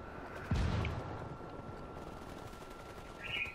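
Gunfire in the tactical shooter Ghost Recon Wildlands: one sharp, loud blast up front followed by a faint rattle of distant shots, with no voices.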